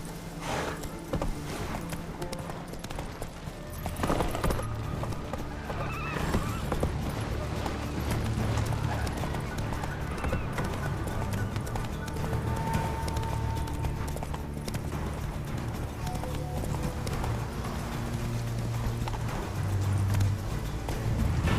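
A horse in The Witcher 3: Wild Hunt breaking into a gallop, rhythmic clip-clop hoofbeats running steadily throughout at moderate loudness, with game ambience and a brief spoken command near the start.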